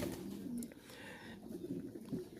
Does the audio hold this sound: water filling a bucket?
no